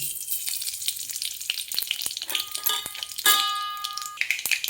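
Mustard seeds crackle and pop in hot oil in a pan for ridge gourd chutney, a dense close sizzle with sharp spattering bursts and a brief clink of metal.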